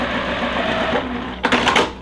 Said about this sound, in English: I'm gonna sew just on the inside of the line I just created